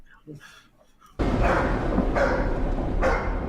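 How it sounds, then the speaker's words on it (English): A dog barks loudly and close by in a few rough bursts that start suddenly after a quieter moment and continue to the end. "Oh, there goes the dog."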